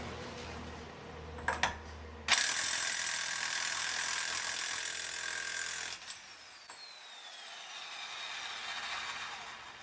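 A ratchet working a wheel nut loose on a 1984 VW T3 Vanagon, with a few sharp clicks followed by a long, loud mechanical whirring burst that stops abruptly, then quieter handling.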